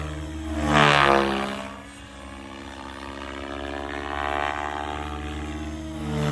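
RC helicopter with a 4030 1080 kV motor on stock pinion, V-Bar Evo and 7-cell pack, spinning up: a steady rotor and motor drone with a brief louder swell near the start, continuing alone without talk.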